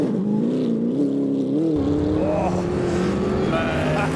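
A Mercedes GT3 race car drives on the track at Blyton Park, a loud close engine note climbing through the revs with gear changes, with a voice briefly underneath.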